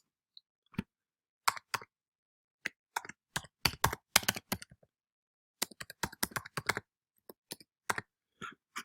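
An email address typed on a computer keyboard for a WebEx login prompt: bursts of close, crisp keystrokes in quick irregular runs, separated by short pauses, with no talking.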